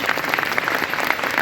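An audience at a Hindi religious discourse on yajna claps steadily, a dense, continuous patter of hands filling the short moment without voices.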